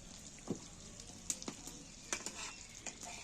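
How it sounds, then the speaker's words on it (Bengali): Whole cumin seeds crackle faintly in butter and oil in a pan, gently stirred with a few soft taps of the spoon, quiet and close. "আমি জিরেটাকে আস্তে করে হালকা করে একটু নেড়ে ভেজে নিচ্ছি"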